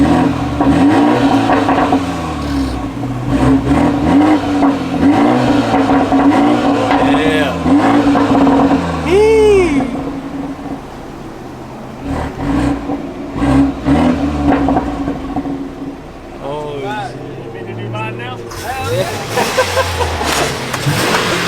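BMW 330i G20 with resonator delete switched into sport mode, revving with loud exhaust pops and burbles that crackle between throttle blips, close by, with voices talking over it.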